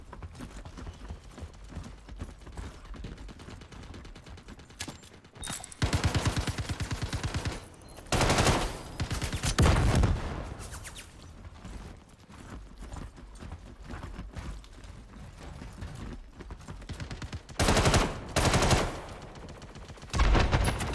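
Bursts of rapid gunfire ring out in Star Citizen's Star Marine combat mode, several loud clusters of shots spread across a steady background of game noise.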